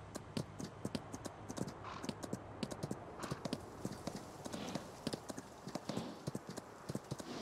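Video game horse hooves in Farming Simulator 19 clop in an irregular walking rhythm, crisp and close, with a faint hum in the background and no talking.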